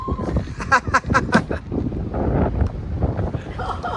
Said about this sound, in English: Look, the wind's so high